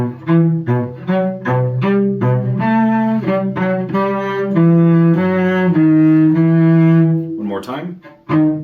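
Cello playing two measures of a Vivaldi Allegro from Suzuki Cello Book 5, a run of bowed notes moving through half, first and third positions, loud and close, played alone in a steady legato phrase that ends with a brief scrape.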